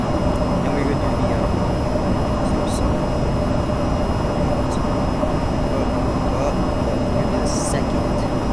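A loud aircraft engine drones steadily in the flight game VTOL VR, a constant roar with a tonal whine and a few faint clicks.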